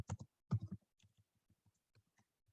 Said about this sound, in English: I'm typing as I'm talking